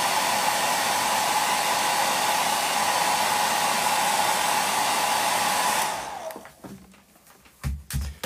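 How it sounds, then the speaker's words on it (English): A hairdryer blasts hot air to dry the paintwork on a model French chateau, a loud steady whooshing roar that runs for about six seconds and then switches off, leaving faint handling noises. "I'm just going to blast this with the hairdryer"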